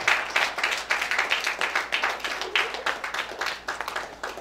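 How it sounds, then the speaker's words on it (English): Church congregation applauding members of Dharma Ministries, brisk rhythmic clapping from many hands with a pulsing, near-unison beat, steady and fairly close throughout. "Please give them a round of applause for me."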